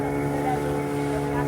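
Motorized fishing boat runs on the water along the coast, a steady low engine drone with strong humming tones, close and constant, while someone talks over it.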